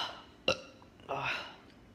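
A single short burp erupts abruptly, followed a moment later by a voiced, throaty sound from the same person, close to the microphone.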